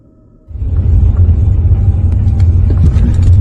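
A car driving on a road at night, a rumbling engine and tyre noise that starts suddenly and holds steady and loud, with faint whooshing over the top.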